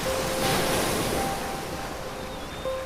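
Sea surf washes in as a steady, broad rushing roar, fairly faint and constant, with a slight swell near the start and a soft surge at the end.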